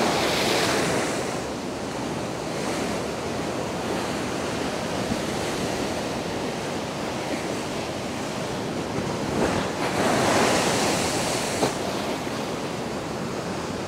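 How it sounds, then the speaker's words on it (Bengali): Large ocean waves crash and surge on Shankarpur beach, a broad continuous roar of surf with wind buffeting the microphone, swelling louder at the start and again near the ten-second mark. "এরকম বড় বড় ঢেউ হয়তো দীঘায়ও নেই।"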